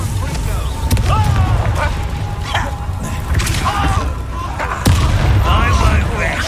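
Spell blasts boom and thud in rapid succession during a Hogwarts Legacy duel, dense heavy impacts layered over a continuous rumbling background with some effects overlapping, and spoken incantations mixed in.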